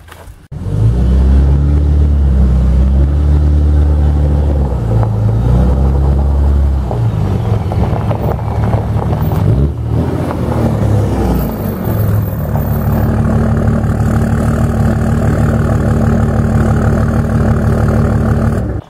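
A Cummins 5.9 diesel truck with a new 5-inch MBRP turbo-back exhaust rumbles loud and deep as it pulls up a driveway, droning steadily and shifting pitch partway through, with no talk.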